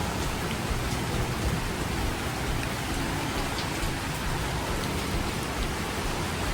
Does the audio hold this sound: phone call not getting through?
no